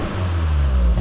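A Volkswagen Golf 7.5 TCR engine revs steadily for about a second, a close, loud, smooth drone with strong low rumble and no voices.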